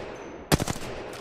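A single sharp Peacekeeper shotgun blast in the Apex Legends video game cracks out loud and close, followed by a quick burst of weapon-handling clatter from the swap.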